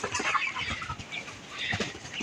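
Chickens cluck and chatter on a raised-platform poultry farm built with plastic netting, a busy, continuous flock sound with overlapping calls at moderate distance.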